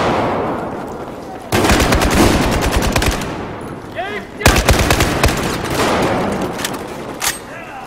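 Battlefield 4 gunfire: loud, sustained bursts of rapid automatic fire in long rattling strings, with a brief lull and scattered shots between bursts.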